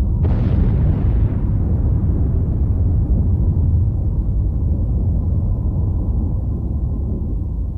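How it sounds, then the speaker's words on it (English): An aircraft is blown up in a test explosion, with a sharp blast at the start followed by a long, heavy rumbling roar that slowly fades, loud and alone. "investigators decided to blow up some aircraft"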